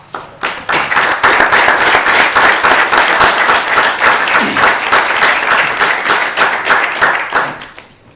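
Sustained applause from council members in a municipal council session hall at Ravne na Koroškem, steady, dense hand clapping for about seven seconds, close and loud, fading out at the end.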